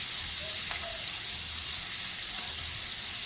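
Scallops cooking in a hot pan, a constant broadband sizzle and hiss that holds steady from start to finish with a few faint clinks, no voices.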